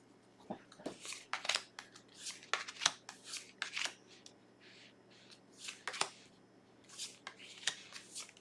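A slippery deck of tarot cards being shuffled, giving repeated crisp riffling bursts in an uneven rhythm, close and fairly quiet, with no talking.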